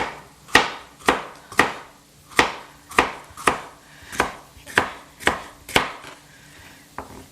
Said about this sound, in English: Slice it into about 1/8 inch shreds.